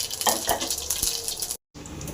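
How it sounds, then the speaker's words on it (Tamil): Cumin and mustard seeds tempering in hot oil for a kollu sundal dish, a dense crackling sizzle with small pops and a scrape of a utensil, cut by a brief silence near the end. "தாளிக்கு ஜீரகம், கடுகு நீங்கள் தேவைப்பட சேர்த்து பயன்படுத்திக்கலாம்."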